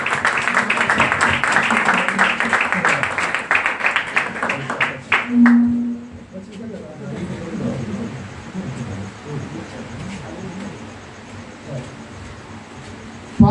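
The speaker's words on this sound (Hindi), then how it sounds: "जरा खुदावंद यीशु मसीह के लिए जोरदार तालियां बजाएं" A church congregation at Bride Church Pakistan bursts into loud, dense clapping for several seconds. It then drops away to quieter murmuring and a voice.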